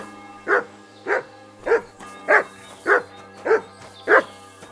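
Mutt the dog barking in Kingdom Come Deliverance II: seven evenly spaced, close, mid-pitched barks in a steady rhythm against a quiet background hum.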